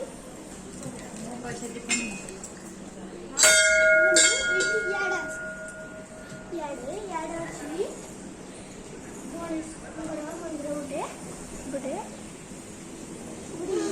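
A bright Hanuman temple bell is struck once, its clear tone ringing out and slowly fading while people talk and move around nearby.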